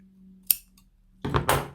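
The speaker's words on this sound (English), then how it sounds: "you can cut these ends" Scissors snip through crochet yarn ends on a handmade headband: one sharp metallic click, then a louder double snip a moment later, close and quiet with no talk.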